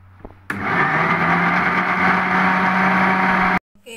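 A kitchen blender grinding batter for eggless vegetarian apam balik, starting abruptly and running as a loud, steady motor whir for about three seconds before cutting off sharply.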